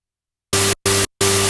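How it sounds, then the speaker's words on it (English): Loud bright hiss of white noise from a Korg MS-20 synthesizer in three short gated bursts, starting abruptly after silence and stopping just as sharply. "you could switch over to white noise."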